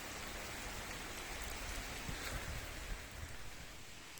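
Steady rain falls on a campervan parking area beneath trees, a dense, even hiss of drops on surfaces that carries on without pause, moderately quiet and with no voices.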